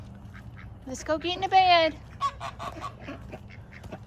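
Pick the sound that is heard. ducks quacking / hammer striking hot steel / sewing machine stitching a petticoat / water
ducks quacking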